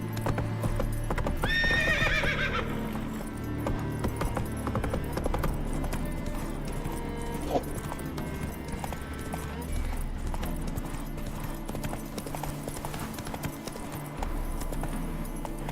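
Roach, a horse in The Witcher 3, gallops with rapid rhythmic clip-clop hoofbeats, a whinny rising early on, all set over game music and ambient background.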